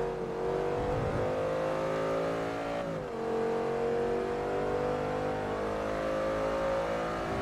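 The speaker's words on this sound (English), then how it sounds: "Let's see how fast the car could go." Audi in Forza Motorsport 3 accelerating hard, a steady loud engine drone with rising harmonics, a brief dip near the three-second mark as it shifts, then climbing again, heard close and alone.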